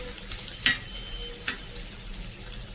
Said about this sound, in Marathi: लसूण चांगला फ्राय होऊ द्यायचा